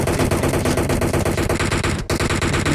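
Rapid automatic gunfire in the mobile battle royale game PUBG Mobile, a loud continuous stream of close shots with a brief break near the end.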